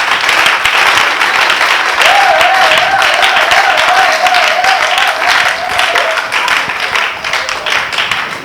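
A congregation at a church mothers' seminar applauds with loud, dense, sustained clapping that continues throughout, while a high wavering voice rises above the crowd for several seconds in the middle.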